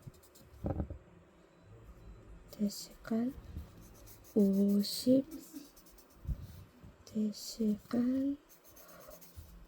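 Marker tip scratching and rubbing as it colors in a section of a study planner, soft close strokes heard between a woman's quiet Korean speech.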